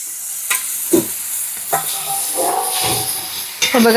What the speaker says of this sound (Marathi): याच्यामध्ये आता मी शेवग्याच्या शेंगा टाकून देते. हे चांगल्या परतून घ्यायच्या याच्यामध्ये.